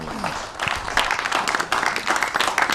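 A studio audience on a TV talk-show set bursts into applause, a dense, steady patter of many hands clapping that holds at full strength for a few seconds, close and lively.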